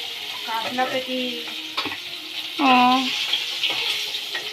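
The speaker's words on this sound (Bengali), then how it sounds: "মা রান্না করছে, মাছ ভাজছে।" Fish sizzles and spits as it fries in a pan of oil in a home kitchen. A steady crackle runs throughout, with voices talking over it at moments.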